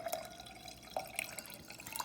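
Water trickles and drips into a glass of mint-infused detox water, faint, near and intermittent, with small splashy plinks and no talking.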